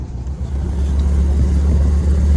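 A Porsche Speedster replica with a stock 1600 engine drives along, its low, steady engine drone rising slightly in loudness as it moves, loud and close with no talking.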